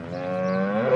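A single cow gives one drawn-out, low moo at close range, rising slightly toward the end with no other sounds around it.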